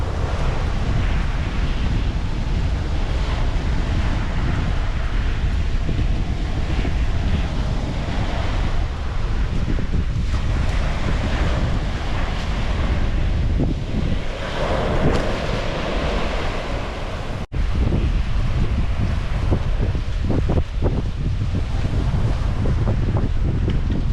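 Rough, choppy sea waves and strong wind at the coast make a loud, continuous roar with heavy wind buffeting on the microphone throughout and no voices.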